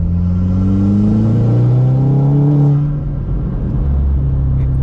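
A 2008 Seat Leon Cupra K1 with a Stage 2 tune revs hard through the gears, its engine note climbing loud and close as turbo boost builds, then dropping to a lower drone.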